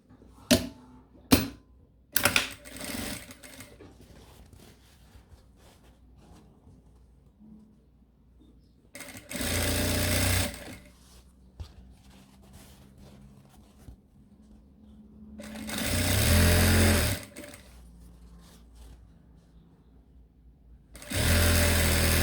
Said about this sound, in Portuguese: eu vou passar a costurinha aqui, bem rente ao meu zíper